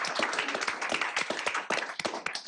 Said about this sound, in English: give them a round of applause and thank them